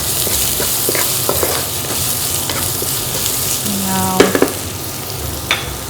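Onions frying in a pan for banana flower poriyal, a loud steady sizzle with occasional scraping clinks of stirring, close up and without speech.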